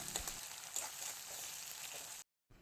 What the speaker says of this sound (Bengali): এবারে কুচনো পেঁয়াজ আর 6 থেকে 7টা চেরা কাঁচা লঙ্কা একসাথে একটু ভেজে নেব।